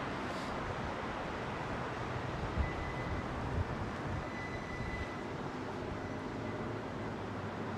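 Saudia Boeing 777 airliner starting up its engines at Heathrow, a steady, distant roar of engine noise blended with wind rumble, continuous and fairly even throughout.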